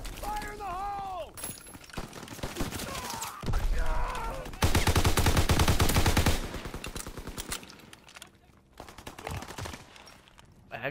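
Gunfire in the World War II shooter Call of Duty WWII on the Aachen map, with bursts of automatic fire, single shots and explosions crackling loud and close from several shooters, mixed with game sounds and a player talking.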